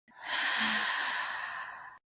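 A long, deep breath out through the mouth in a guided breathing exercise, a single steady airy exhale lasting nearly two seconds, close and clear.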